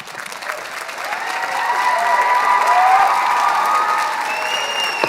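Audience applause fills a town deliberative session meeting hall after a speaker backs a motion, a broad crowd clapping that swells and holds steady, with voices and some tonal sounds mixed in.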